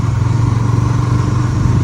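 A motorcycle engine idles close by with a steady, loud, throbbing putter and no voices.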